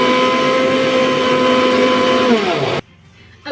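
A kitchen mixer grinder whirring loudly and steadily as it grinds mint chutney, its motor pitch sagging slightly near the end before cutting off abruptly into near silence.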